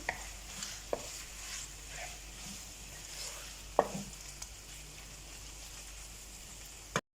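Mutton mince being fried in oil in a karahi, a quiet continuous sizzle with a few sharp knocks of a spoon against the pan, close but faint, no talking.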